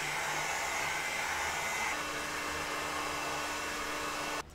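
A heat gun blows steadily on foam shoulder armor pieces, a constant close whooshing hum that drops slightly in pitch partway through and cuts off abruptly at the end.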